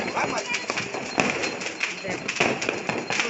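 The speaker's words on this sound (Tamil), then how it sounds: "இவங்க வெடிக்கிறாங்களா? மேல இருந்து வெடிக்கிறாங்களா?" Scattered crackling pops from firecrackers sound at a moderate distance, repeating irregularly under people talking.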